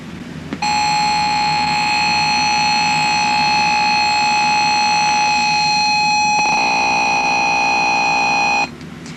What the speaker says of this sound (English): So I went ahead and set the alarm. It should go off in a second and probably scare the crap out of me.